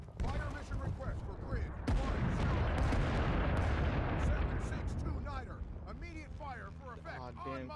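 Bombs and artillery explode in the Vietnam War video game Rising Storm 2: Vietnam, a loud, continuous barrage of booming blasts and rumble, with voices talking over the tail end.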